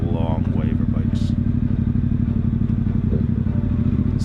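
Ducati Diavel with a full Termignoni exhaust descending Pikes Peak in Colorado, a steady loud engine drone under engine braking with wind rush, continuous and close throughout.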